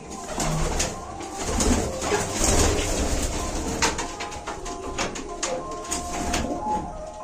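Pigeons coo repeatedly in soft, throaty bursts close by in their loft, overlapping one another with some shuffling and background clatter.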